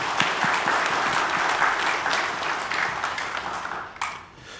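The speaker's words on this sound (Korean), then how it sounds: "우리 수간 찬양 대원 위에서 박수 한번 해드리겠습니다" A church congregation applauds its choir after a hymn during Sunday worship: dense, steady clapping from many hands filling the room, holding level for about four seconds before thinning out at the end.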